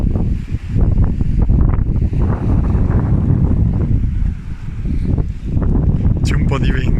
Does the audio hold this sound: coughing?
no